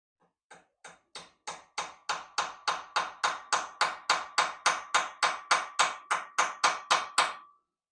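Rapid, evenly spaced metallic taps, about twenty in a row, as pliers tap head badge rivets into a Raleigh Chopper bicycle frame, close and clear with nothing else audible.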